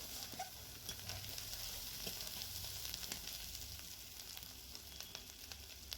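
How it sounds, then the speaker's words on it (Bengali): Spice paste sizzles and crackles steadily in hot oil for a Bengali rohu fish curry, with faint scraping of stirring underneath, a soft continuous fry with no voices. "এবারে সব মশলা ভালো করে কষে নেব।"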